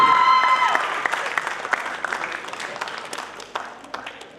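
Audience applause after a comedy theatre play, a burst of clapping that starts loud and gradually thins and fades, with a brief voice at the very start.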